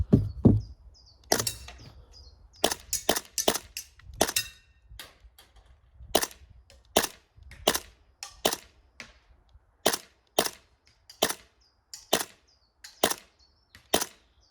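Maxx M4T airsoft rifle with quantum hop-up bucking, fired at a 65-meter range: a series of sharp, snappy shots in uneven bursts, each a crisp crack with short gaps, fairly close and loud with no talking.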